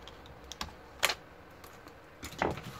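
Dell Inspiron N4030 laptop keyboard being worked loose by hand, a few sharp plastic clicks and snaps spaced irregularly, close and fairly quiet, with no talking.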